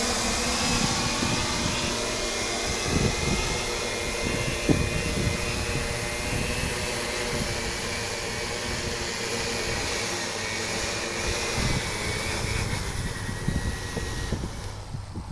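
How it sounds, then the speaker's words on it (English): A ReadyEdi 650 X8 octocopter with one motor shut off auto-landing, its multirotor whine and buzz steady and fairly close throughout, settling slightly toward the end. "So I'm going to demonstrate the auto landing feature. Still with one motor off,"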